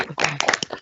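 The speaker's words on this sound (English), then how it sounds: "Slow clap." Students on a video call give a slow clap, overlapping bursts of clapping from several participants in quick succession, close and slightly compressed, lasting under a second.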